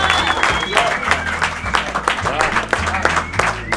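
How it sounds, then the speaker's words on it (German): An audience at an open-air concert in Munich applauds with dense clapping and cheering that lasts throughout, while voices talk over it. "Erst einmal Applaus für den neuen Bart von Richard hier."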